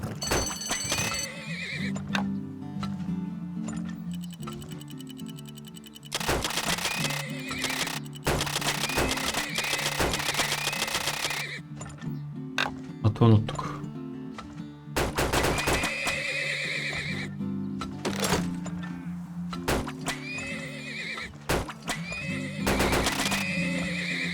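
Horses neighing and whinnying repeatedly in the video game Turmoil, with clip-clopping hooves and occasional game effects, loud and busy throughout.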